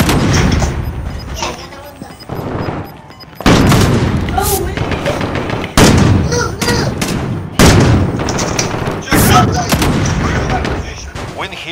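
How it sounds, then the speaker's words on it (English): Repeated pistol shots in Call of Duty: Warzone, loud sharp cracks in irregular bursts over about twelve seconds against a busy game background, with scattered distant booms. "Pistol."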